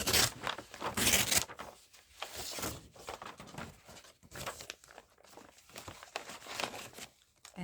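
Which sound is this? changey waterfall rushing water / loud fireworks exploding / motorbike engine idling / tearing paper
tearing paper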